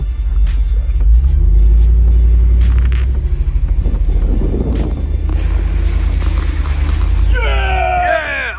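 A Jeep Wrangler 392 driving off-road through puddles, its engine rumbling loudly and steadily up close, with water churning and splashing under the tires and a voice briefly exclaiming near the end.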